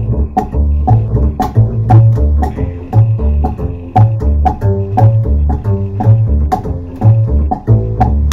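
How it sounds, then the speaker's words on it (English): Foot percussion stamped in a steady baião rhythm, sharp regular taps locked to a pulsing low bass line in a full, fairly loud musical passage with no talking. "Sometimes I play with foot percussion."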